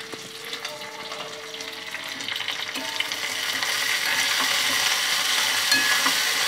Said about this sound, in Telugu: కొంచెం కరివేపాకు వేసుకుంటున్నాను కొంచెం కొత్తిమీర వేసుకుంటున్నాను